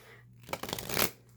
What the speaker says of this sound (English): the way that I was shuffling my cards